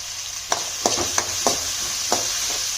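Chopped onions and half a capsicum frying in a pan, with a steady sizzle under several short scrapes and stirring taps spaced through the clip, close and moderately loud.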